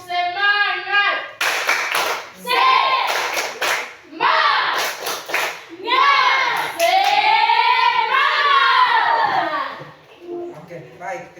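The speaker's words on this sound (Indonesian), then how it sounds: "saya minta kesediaan salah seorang untuk pimpin kita untuk tepuk semangat" Schoolchildren in a classroom clap a rhythmic spirit pattern in bursts of sharp, loud claps, with young voices chanting and calling between the clapping groups.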